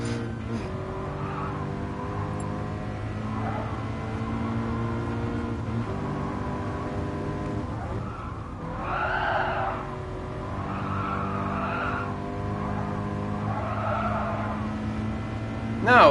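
Race car engine droning steadily with repeated tire skids and squeals in the Gran Turismo Sport video game, at Autodrome Lago Maggiore, a continuous loud engine tone with bursts of skidding midway through.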